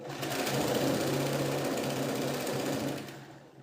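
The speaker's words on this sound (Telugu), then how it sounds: "అక్కడ కూడా బార్ టక్ వేసుకుని స్ట్రైట్గా స్టిచ్ చేసేసుకోవాలి" A sewing machine runs a straight seam with a bar tack on a princess cut blouse, a close, loud, steady mechanical whir with rapid needle clatter that winds down at the end.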